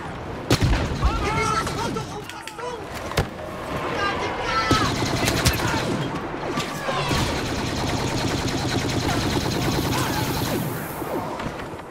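Rapid gunfire from a weapon in Star Wars Battlefront, a dense spray of sharp shots and bursts amid booming explosions and game action, loud and close, with voices speaking over the battle.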